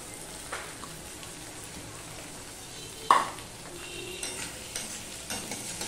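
Onion, ginger paste and tomato fry in a pan with a soft, steady sizzle while a spoon stirs and scrapes now and then, one sharper clink partway through, quiet and close.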